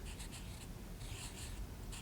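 Pen or pencil scratching across paper while numbers are written, short scribbled strokes in quick bursts, close and soft with no talk.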